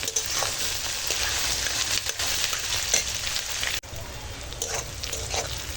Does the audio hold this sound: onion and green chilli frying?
yes